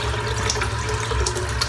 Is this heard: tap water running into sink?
yes